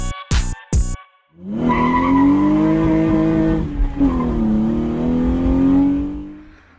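A turbocharged BMW E36 engine catches after a few short cranking bursts, then runs with a loud, steady throbbing drone that wavers slightly in pitch as it idles.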